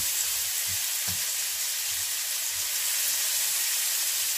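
Tomatoes sautéing in a hot pan for pechay with oyster sauce, a steady bright sizzle with faint soft knocks of stirring, alone and close.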